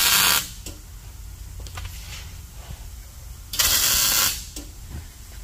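Two tack welds join a steel splitter mount to a car frame in a fabrication shop, each one a short loud crackling hiss lasting under a second, with quiet shop noise between them.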